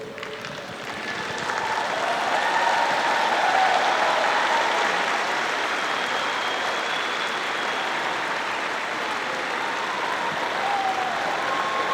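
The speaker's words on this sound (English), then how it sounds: "give your loved ones a big round of applause for helping you be here today" Sustained applause from a large audience at the Suffolk University 2022 commencement ceremony, a dense, steady wash of clapping that swells after the first second and holds loud and even to the end.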